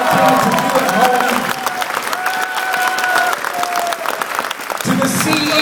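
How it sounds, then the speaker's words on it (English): A crowd applauds steadily with some cheering at an esports award ceremony, while a voice carries on over the clapping. "Let's give them a round of applause"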